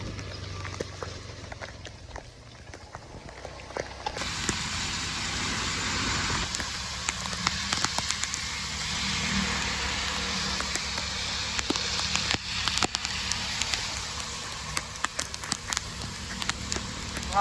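Rain falls steadily outdoors on a wet day during a road trip, a broad continuous hiss with scattered sharp ticks and patters, moderately loud and growing denser after the first few seconds.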